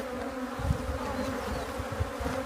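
Bees buzz steadily and close by, a constant droning hum with small flickers as individual insects pass near.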